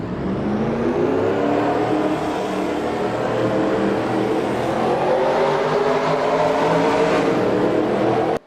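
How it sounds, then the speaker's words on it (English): Race car engines in a racing video game roar together at the start of a stock car race, a loud continuous layered drone of revving motors that holds steady before cutting off abruptly at the end. "Drivers, start your engines!"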